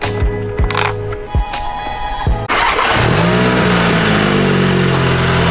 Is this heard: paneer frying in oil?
no